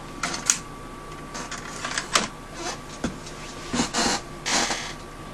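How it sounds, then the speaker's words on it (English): A small printer used for a crayon-burning experiment being folded up, giving a series of separate clicks, clacks and short plastic creaks at close range with brief pauses between them, no talking. "Let's fold up my printer."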